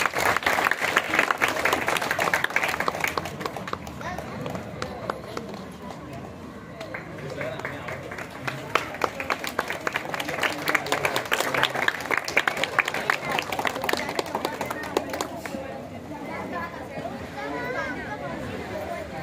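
An audience at a painting competition prize ceremony claps in a sustained, moderately loud burst that thins and swells, with crowd chatter and voices running underneath throughout.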